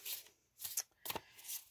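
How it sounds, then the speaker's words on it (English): A quick shuffle of a tarot deck gives three short, soft papery bursts of cards sliding and riffling, quiet and close, with no voices. "let's do a quick shuffle."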